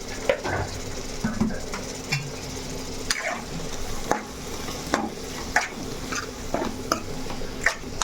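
Turmeric, salt and other ingredients stirred into a frying mixture in a pan, with a steady soft sizzle under repeated scraping strokes of a spoon against the pan, about a dozen irregular close knocks.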